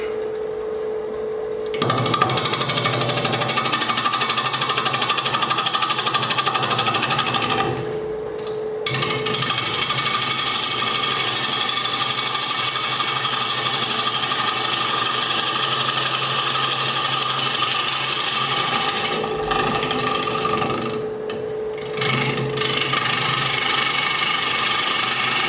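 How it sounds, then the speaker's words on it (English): A bowl gouge cuts along the lip of a spinning cherry bowl on a wood lathe, a continuous close grinding, scraping hum from the turning wood and motor, interrupted by a few brief pauses as the cut stops and resumes. "Start by truing the lip of the bowl up with the bowl gouge."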